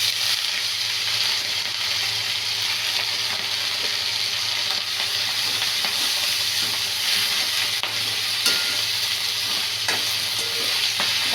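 Fenugreek leaves hit a pan of frying garlic, cumin and chilli, producing a loud, continuous close-up sizzle and hiss that stays even for the whole stretch, with no talking.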